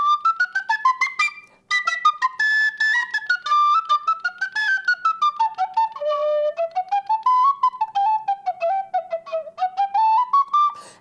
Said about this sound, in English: You can play anything you want to on a penny whistle.